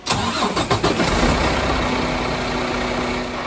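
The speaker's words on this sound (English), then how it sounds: "Hey Glenn, go ahead and start up the vehicle for us, buddy." A heavy duty truck's engine cranks with a few rapid chugs, catches and settles into a loud, steady rumbling idle, close by with no talking.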